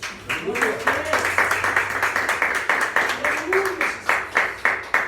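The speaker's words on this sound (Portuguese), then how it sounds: "Podem sentar e aplaude ao Senhor." A church service congregation clapping in a steady, rhythmic beat, loud and close, while a voice speaks and sings over the clapping.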